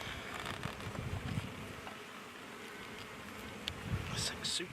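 Honey bees buzzing around an open, heavy hive full of capped honey after light smoking, a steady low drone close by with brief louder flyby swells near the end.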